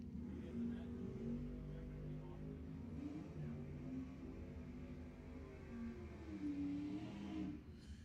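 A Firebird drag car accelerates down the strip at Lebanon Valley Dragway, its engine a steady, fairly distant roar with rising and falling pitch sweeps over about eight seconds before dropping off near the end.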